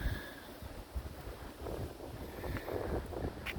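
Wind gusting across an open allotment plot where a greenhouse once stood, a steady blustery rush that roars into the microphone and swells in waves throughout.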